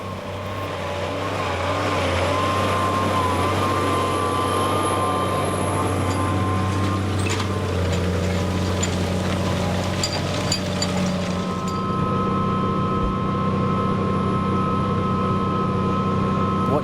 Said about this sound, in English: What you've seen is the plough go past